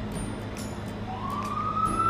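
A police siren rises and holds a high wailing tone over steady street rumble and rain noise, fairly distant but clear.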